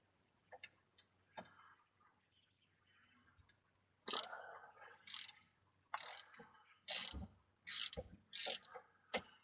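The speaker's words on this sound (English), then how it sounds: "you can just use a 3/8 inch ratchet to go in your" A 3/8 inch ratchet works the fill plug on a 2002 Camry differential, giving clusters of sharp, close clicking strokes that start sparse and then come in quick, loud bursts with short pauses between them.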